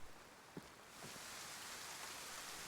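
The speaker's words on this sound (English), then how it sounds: "listen to the rain sound." Steady rain patters on and around a hut in a survival video game, a soft even hiss that swells slightly after a second and continues without voices.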